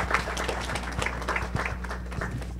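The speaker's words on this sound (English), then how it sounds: "Give a big round of applause to Reza Pude." Audience applause greets a professor stepping up to speak at a university communications week event, a steady patter of clapping from a crowd at moderate level with a low hum beneath.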